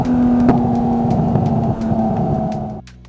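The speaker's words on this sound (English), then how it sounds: "what I wanted for the exhaust audio was like a downshift, and then letting the exhaust rev out and hearing some burbles" Porsche GT3 exhaust holding a steady engine drone that shifts pitch partway through as it downshifts and revs out, loud and close, ending in a drop to a low idle burble.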